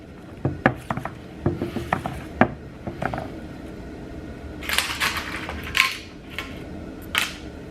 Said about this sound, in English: take my channel plate, put it over the roll pins